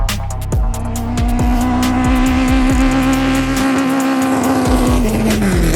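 A longtail racing boat's Toyota 1.5-litre engine roars at high revs, loud and sustained with a steady whine that rises and falls slightly, close by, at a longtail boat race in Thailand.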